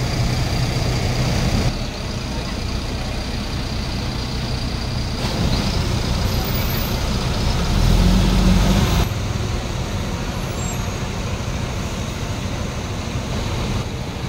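Idling diesel engines of intercity buses at a terminal just before departure, a steady low rumble that swells briefly midway, with surrounding traffic noise and no clear speech.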